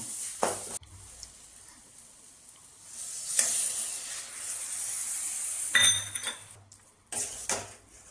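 Onion and tomato masala with added water sizzles and bubbles steadily in a pan, with a few loud bursts of metal utensil scraping and clinking against the cookware.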